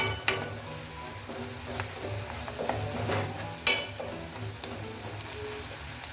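Turmeric powder fries and is stirred in a pan while preparing restaurant-style channa masala: a steady low sizzle runs throughout, broken by sharp spatula scrapes and clicks against the pan, with no voices.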